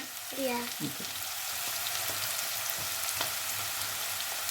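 Chili and turmeric paste sizzles in a frying pan for vegetarian Hakka noodles, a constant close hiss of oil with a few brief stirring clinks and a short voice near the start.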